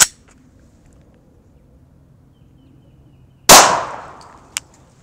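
A .40 caliber full metal jacket round is fired through a floor: one loud, sharp crack with a ringing decay that fades over about a second, then a brief metallic click, with near silence around it.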